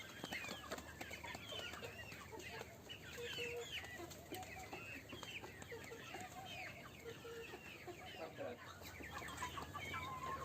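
A flock of black chickens clucks continuously, with many overlapping short calls at moderate distance, fairly quiet and with no talk over them.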